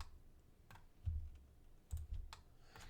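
A computer mouse gives a few soft, scattered clicks, quiet and close, with a couple of duller thumps between them and no voices.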